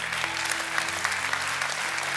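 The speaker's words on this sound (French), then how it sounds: "est-ce que tu applaudis pour t'encourager toi-même?" Dense applause from an audience at a sermon-style gathering, steady and even throughout a short stretch, with no pauses and a faint tonal hum underneath.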